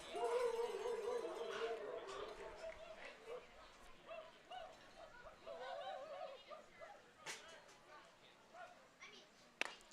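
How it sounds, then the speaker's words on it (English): Baseball fans yipping and barking in the stands at a Lincoln Potters versus Alpha Prime game, scattered and fairly distant, mixed with crowd noise and play-by-play commentary throughout. "there's some really psychotic barking going on by some fans down there"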